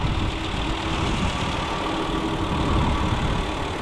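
A 3.5-liter V6 in a 2012 Hyundai Santa Fe Limited, paired with a six-speed automatic, idles with a steady low rumble and even hum throughout, close by and without talk.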